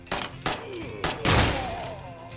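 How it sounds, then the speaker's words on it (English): Frag grenade going off in the tactical shooter Door Kickers 2, with several sharp reports before a heavier booming blast that rolls off in a decaying rumble. "Give me a frag in the corner. Frag out."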